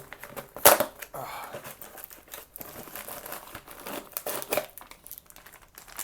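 Tape and cardboard on a box holding a Hinderer XM24 knife are ripped open by hand, with close, crackling tearing and crinkling noises in irregular bursts and one loud rip near the start.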